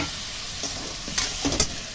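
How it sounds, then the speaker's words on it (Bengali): Chopped tomato and shelled peas fry in a pan with salt, turmeric and slit green chillies, giving a broad steady sizzle broken by several light stirring clacks toward the end. "এবার দিয়ে দিচ্ছি কেটে রাখা টমেটো আর ছাড়িয়ে রাখা মটরশুঁটি।"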